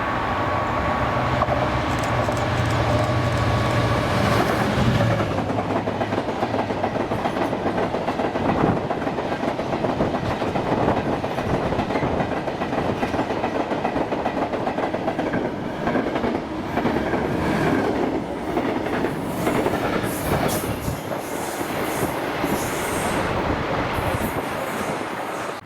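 Freight train 6K18 from Carlisle to Paisley, hauled by Class 66 locomotives 66303 and 66304, rolls past with a continuous heavy roar of wagons, rhythmic clickety-clack and some wheel squeal, steady and close throughout.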